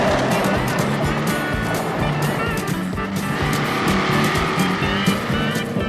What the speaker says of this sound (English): They get in the car and they speed away.